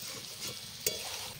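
Chicken pieces fry in a pan for Bengali-style chicken kosha while being stirred, giving a close, steady sizzle with soft scraping. One sharp clink of a utensil cuts through partway, and no voices are heard.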